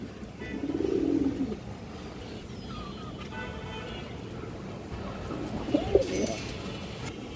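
Pigeons from a fine bloodline, high-flyer breeds, coo in low bursts near the start and again toward the end, moderately close, over a steady background hum with faint traffic.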